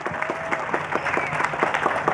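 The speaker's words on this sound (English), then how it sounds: "So nice round of applause for La'akia" An audience claps at a hula performance, producing a steady, moderate patter of handclaps throughout.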